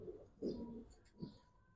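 A female pigeon, held in hand at a pigeon sale, gives a couple of soft, low coos close by, with quiet pauses between them.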